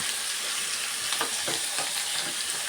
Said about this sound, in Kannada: ಈ ಥರ ಆಯಿಲಲ್ಲಿ ಸ್ವಲ್ಪ ಫ್ರೈ ಮಾಡ್ಕೊಂಬಿಡ್ಬೇಕು